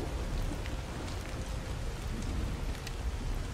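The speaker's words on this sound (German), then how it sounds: "Warum regnet es in meiner Hütte?" Rain falls inside a hut in the video game Soulmask, a steady, fairly quiet hiss of drops with no talk and a faint low rumble underneath.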